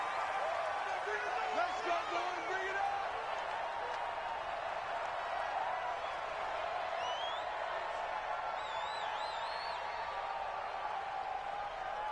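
Crowd noise fills a football stadium at a Seattle Seahawks versus Minnesota Vikings game, a steady roar with faint whistles, far off and spread wide, with a commentator talking over it throughout.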